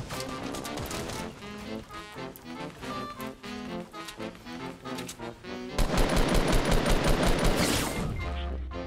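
Rapid bursts of automatic gunfire rattle continuously, growing louder and denser near the end, with sharp repeated cracks of video game combat in Fortnite's Tilted Towers.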